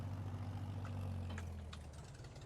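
A utility tractor engine idles in a farming video game, a low steady hum holding at an even level, then the tone shifts slightly near the end, with no voices over it.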